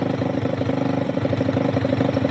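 A freshly started small engine, running on choke, idles steadily with a rapid, even chugging pulse, close and fairly loud, with nothing else over it.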